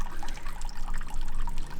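Water trickles and drips steadily at the healing well of Bergoro in Italy, a soft, close, continuous liquid sound with no talking over it.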